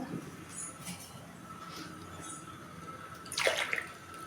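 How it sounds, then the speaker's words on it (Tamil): Water is poured from a tumbler into a pot while a home remedy for cold and cough is being made, giving faint trickles and then a brief, louder splashing pour near the end. "ரெண்டு மூணு நாலு டம்ளர் ஜலம் விட்டுருக்கேன்"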